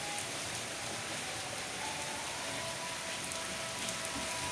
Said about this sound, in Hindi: ये देखें माशाल्लाह कितनी बारिश लगी हुई है